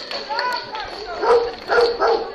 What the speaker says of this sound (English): The dog is absolutely delighted out here in the Steve Sumner stand.